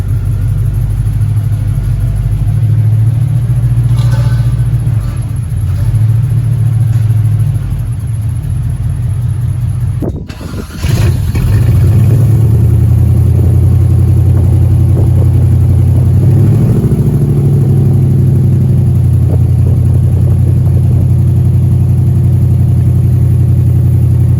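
A repaired Chevrolet Impala's engine runs steadily at close range, a loud low rumbling idle with a brief dip partway through and a slight rise in revs later, no voices over it.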